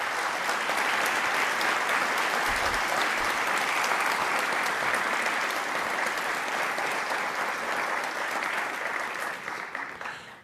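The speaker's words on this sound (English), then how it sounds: "Please give Mr. Harden a round of applause" Sustained audience applause at a 2019 Pentagon disability awards ceremony, a dense, steady wash of clapping that holds loud for about ten seconds before tapering off at the end, with no talking over it.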